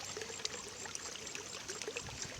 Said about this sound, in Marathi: जमिनीतनं वरती आलेले धबधबे